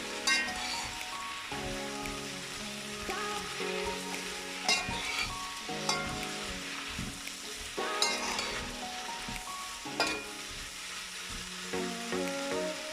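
Seasoning sautéing in a pot for Jamaican steam fish with red tail snapper, a soft continuous sizzle broken by periodic stirring scrapes and light utensil knocks, with no voices.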